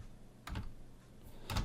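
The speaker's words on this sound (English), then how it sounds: "So I'm going to type publish" Two quiet, separated taps on a computer keyboard as a command is entered in AutoCAD, close and faint over a low background hum.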